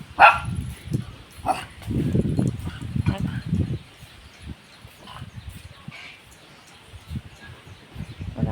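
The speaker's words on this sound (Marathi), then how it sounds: "पप्पी किती उगा नुसती भुकत राहते तू" A dog barks in short bursts near the start, then low grumbling and whimpering noises follow amid indoor background sounds.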